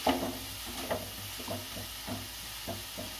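Meat being stirred and sautéed in a pan for a kabul roll filling: a spatula scrapes in a regular rhythm, about every half second, over a soft continuous sizzle, close and moderately quiet.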